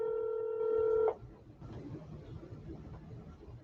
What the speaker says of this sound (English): You guys hear the phone?